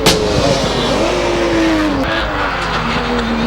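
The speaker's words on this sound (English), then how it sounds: "Definitely got some good speed on this car." A race car climbs a mountain road at a hillclimb event, its engine holding a loud, steady high drone with rising and falling pitch as it accelerates and shifts, close and continuous throughout.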